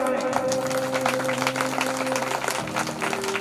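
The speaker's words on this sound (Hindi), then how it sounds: "बढ़िया जोरदार ताली बजाएं" An audience at a Shrimad Bhagwat Katha religious discourse in Jabalpur claps together in a dense, sustained burst of applause, with instrumental music tones held underneath throughout.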